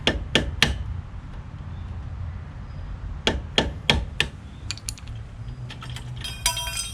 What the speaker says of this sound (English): I'm gonna do the right thing and use a old screwdriver that I never use.